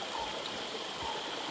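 Stream water runs at the TP Kotta waterfalls, a steady close rushing and gurgling with no pauses and no voices over it.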